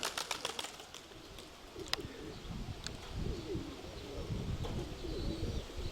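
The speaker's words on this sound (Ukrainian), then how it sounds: "голуби злякалися і підстрибнули" Pigeons flap into the air close by, a burst of wingbeats over outdoor background noise, with a few soft coos and chirps.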